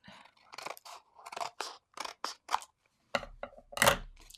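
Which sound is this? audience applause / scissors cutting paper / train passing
scissors cutting paper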